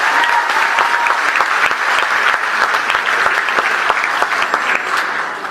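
A large audience claps steadily and loudly at a Hindi comedy poetry show (hasya kavi sammelan), dense sustained applause that tapers slightly at the end.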